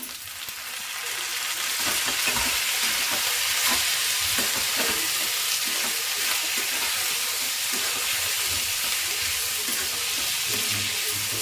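Capsicum sizzling in a hot pan while bisi bele bath is cooked, a steady loud frying hiss with faint stirring scrapes throughout, no talking.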